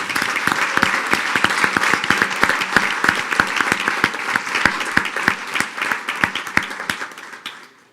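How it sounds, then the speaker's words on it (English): A school board meeting audience in Springdale gives a round of applause, sustained clapping from a roomful of people with sharp individual hand claps standing out, steady for several seconds before tapering off. "let's give them a round of applause for their service"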